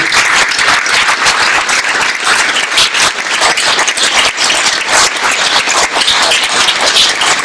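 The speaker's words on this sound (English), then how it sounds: "Let's give him both a round of applause." A room full of people applauds continuously at a city attorney debate, dense and loud clapping that holds steady throughout.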